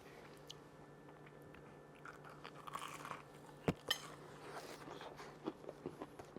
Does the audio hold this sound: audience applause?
no